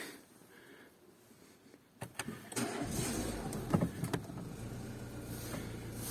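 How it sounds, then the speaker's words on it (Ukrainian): A 2006 Renault Grand Scenic 2 with a 1.6 petrol engine starting from cold: a starter click and brief crank, then the engine catches and settles into a steady idle, heard close with no talk. "Автомобіль холодний, але заводиться без проблем."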